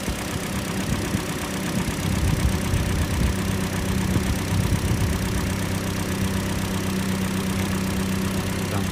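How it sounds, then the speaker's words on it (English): A 2012 Hyundai Elantra Limited with a four-cylinder engine and automatic transmission idles under the open hood, a steady, even low hum with a faint mechanical ticking, heard up close with no talking. "Four-cylinder engine."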